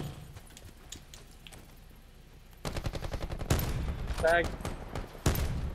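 Rapid gunfire bursts and single shots from a Blackout battle royale match, loud and close, growing denser in the second half, with players talking over the shooting.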